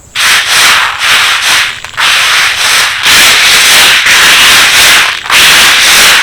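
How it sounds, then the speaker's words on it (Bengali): Dry chickpeas being rubbed hard between two palms to clean them, a loud coarse rasping in repeated bursts with brief pauses between strokes, no voices. "দু হাত দিয়ে ঘষে ভালো করে পরিষ্কার করে নিলাম"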